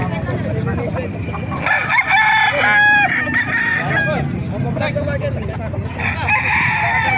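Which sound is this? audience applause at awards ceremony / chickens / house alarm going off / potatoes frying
chickens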